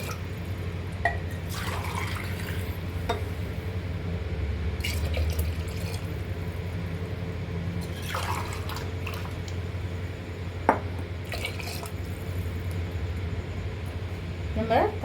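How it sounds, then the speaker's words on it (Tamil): Water poured into a cooking pot for biryani, measured by tumblers for rice, giving a steady running, splashing fill with brief drips, mostly continuous over the clip; a voice talks at times. "இப்போ தண்ணி சேர்த்துக்குவோம்."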